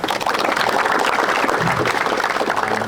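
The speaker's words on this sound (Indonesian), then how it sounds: "Tepuk tangan buat beliau." An audience applauds for a football official at an Indonesian gathering, a loud, sustained burst of clapping throughout with no one speaking.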